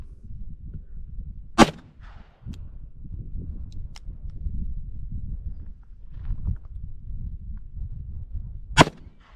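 Colt Python .357 Magnum revolver fired outdoors: two sharp, loud gunshots several seconds apart, with faint rustling and movement between them and no speech.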